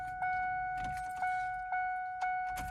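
Ford Ranger with the ignition key switched on to prime the fuel pump: a steady, faint electric whine and chime tone with soft periodic clicks repeating about every half second, heard close with no talking.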